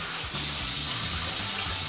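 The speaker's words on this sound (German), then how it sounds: "Erstmal ein bisschen Wasser ins Gesicht machen," Running water pours from a sink tap as someone splashes it on their face, a steady close rushing stream with light splashy variations.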